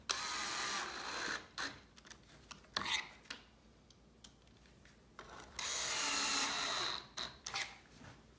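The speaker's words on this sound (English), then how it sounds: "If you're using a drill like I'm using, just make sure you have a longer bit like this to put these pocket screws in." A drill with a long bit drives pocket screws into a wooden farmhouse corner bench. It comes as several close, loud whirring bursts of varying length, separated by short quiet pauses.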